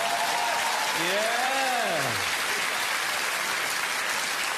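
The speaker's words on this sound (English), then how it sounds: "Round of applause" A large comedy show audience applauds in a steady, full wash of clapping while a voice briefly speaks over it.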